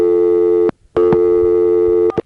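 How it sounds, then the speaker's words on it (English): A steady, loud single-slot payphone dial tone drops out briefly with a faint click as a dime registers, then resumes and ends with a couple of sharp clicks. "The temporary interruption during the dial tone is this single slot phone registering a dime"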